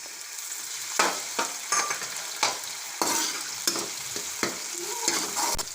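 Tomatoes added to half-browned onions frying in oil for a Hyderabadi stuffed eggplant masala, a steady sizzle punctuated by repeated sharp stirring scrapes and clatters of a spoon in the pan, no talking.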